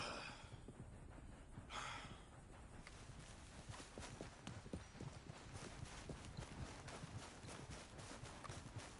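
Horse hooves clip-clop at a steady walking pace on hard ground, with a snort or breath near the start, fairly faint.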